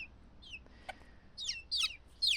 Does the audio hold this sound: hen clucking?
yes